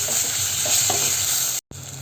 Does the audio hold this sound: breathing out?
no